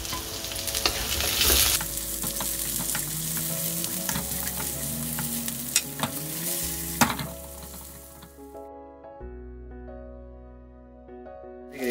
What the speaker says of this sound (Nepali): यो ससेजलाई लगभग पाक्ने गरी फ्राई गर्नु होला ससेजलाई 2-3 मिनट फ्राई गर्नुपर्छ